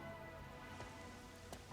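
Steady soft rain falling in the Rain Code video game, a constant faint hiss of drops with no other sounds.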